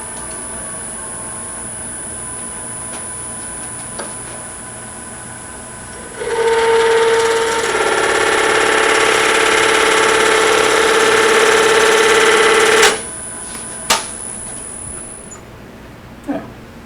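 A small wooden ring box workpiece spinning on a turning wheel at about 1,000 RPM, a loud steady whirring hum that starts up, holds for several seconds, then cuts off, followed by a few clicks.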